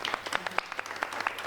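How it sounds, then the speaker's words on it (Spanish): Short burst of audience applause at a talk, several pairs of hands clapping in a quick irregular patter, close and fairly loud, lasting just over a second with no speech. "aplausos, por favor."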